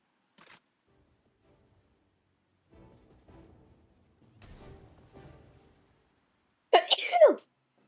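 A single sharp, loud sneeze bursts out near the end after soft scattered handling noises and quiet murmuring.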